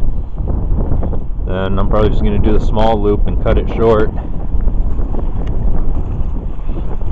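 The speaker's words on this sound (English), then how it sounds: "It's so dang windy coming off that lake." Strong wind blows off a lake at a backcountry campsite on the Western Uplands Trail in Algonquin Park, a loud constant roar buffeting the microphone while someone talks over it.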